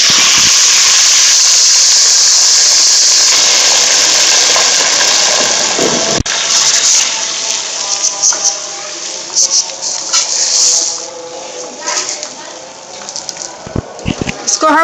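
Brown lentils (malka masoor), soaked, frying in a pan with onions and black cumin: a steady, loud sizzle and hiss that thins into bubbling crackles and spatters near the end, close by with no talk over it.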